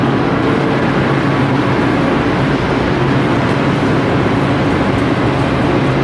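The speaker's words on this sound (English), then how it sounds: "it looks like that's our train right there to Beacon." A Metro-North train bound for Beacon, operated by the state of Connecticut, waits at track 28 inside Grand Central Terminal, giving off a steady, loud low rumble and hum that fills the concourse without a break.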